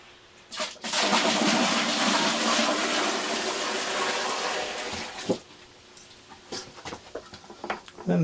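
Hot water is poured into a heater to prime it for its first startup, a loud sustained pouring and rushing lasting several seconds before breaking into scattered splashes and handling clatter.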